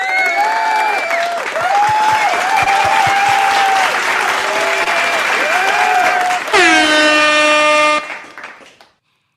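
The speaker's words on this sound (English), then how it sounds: "That deserves an applause," A crowd claps and cheers during a welcome for a visitor in Kenya, while loud air horns or vuvuzela-like blasts honk repeatedly over the noise before everything fades out near the end.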